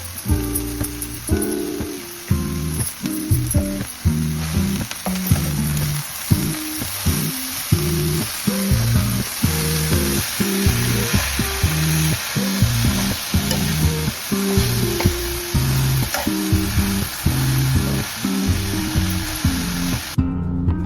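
Harbhara bhaji, chickpea greens, cooking in a pan over a medium gas flame, giving a steady close sizzle with a busy, uneven texture of frying and stirring that runs unbroken throughout, with no voices.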